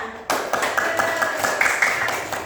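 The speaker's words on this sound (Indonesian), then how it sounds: "Tepuk tangan semuanya." A class claps hands together after a brief quiet start, a dense burst of close, sharp claps carrying on steadily for a couple of seconds.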